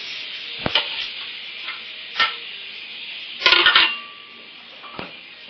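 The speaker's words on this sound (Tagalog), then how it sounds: "In a pan, heat the oil and fry the marinated chicken." Marinated chicken fries in hot oil in a pan, a steady sizzle broken by scraping stirs and clanks of a utensil against the pan, one burst of louder frying and clattering near the end. No voices.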